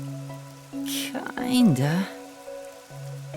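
Steady rainfall in the video game Rain Code, a soft wash sitting under a voice speaking and sustained musical tones that swell and bend partway through.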